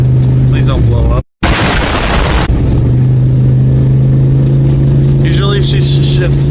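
A Ford Bronco II with a shifting problem drives along, its engine droning steadily at a near, loud level with a sudden burst of noise and a brief dropout early on, and faint voice-like sounds appearing late.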